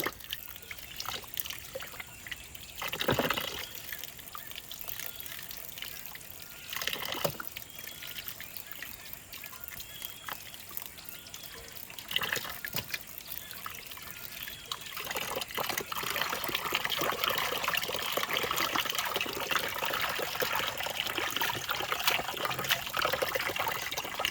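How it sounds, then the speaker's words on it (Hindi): Water trickles and pours onto large lemons in a home kitchen, a soft intermittent splashing that grows into a steadier stream in the second half, with no talking. "वो लेमन में पानी डाल रहा है।"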